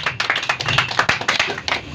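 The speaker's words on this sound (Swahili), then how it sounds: "Pigia Yesu makofi mazuri" A church congregation in Embakasi claps during worship, giving a close, loud run of quick hand claps with a steady rhythm and scattered individual slaps.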